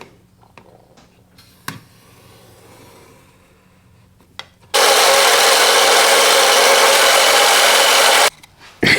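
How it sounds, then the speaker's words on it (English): A scroll saw with a very thin blade cuts through wood in one steady, loud, buzzing stretch of about four seconds, preceded by quiet handling taps and clicks. "And I'm gonna use my scroll saw."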